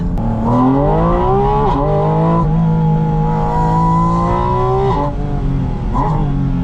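A loud 2025 Porsche Spyder RS engine roars steadily, its pitch climbing and dipping through gear changes with a strong, throaty intake sound up close.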